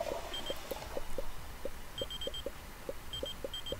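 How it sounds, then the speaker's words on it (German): Repeated short electronic beeps in the Mad Games Tycoon video game, sounding in quick clusters at an uneven pace against a low hum, with brief higher-pitched tones now and then. "Tüt, hier piepst es im Sekundentakt."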